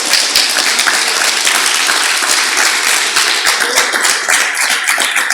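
A church congregation claps loudly and continuously during a worship service, a thick, energetic ovation of many hands with some rhythmic taps, sustained at full strength throughout without spoken words.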